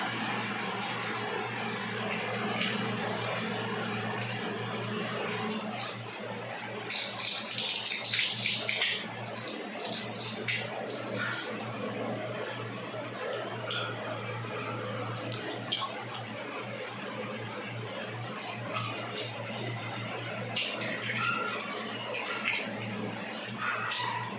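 Raw prawns are rinsed under running tap water. A steady, close rush of water flows throughout, with brighter splashing around the middle as the water hits the prawns.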